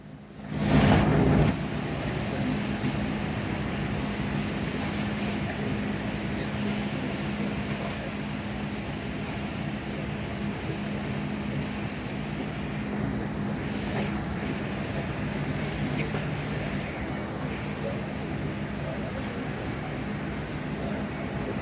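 The Shalimar Express pulls away from a station stop in Pakistan's Shorkot section, a steady loud rumble and roar of the moving train heard from on board, with a sharp thump near the start and faint clatter throughout.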